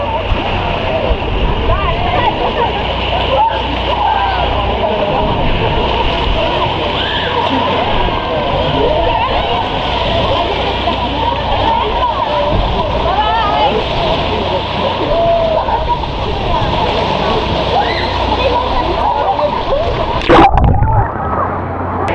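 Strong water rushing continuously from a device, a dense steady roar with sloshing and splashing, loud and close throughout, with people talking beneath it and a brief louder burst near the end.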